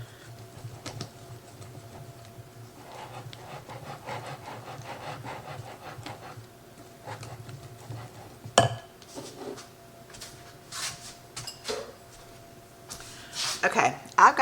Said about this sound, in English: I'm just using a whisk, and I'm just hand whisking it instead of getting out my hand mixer.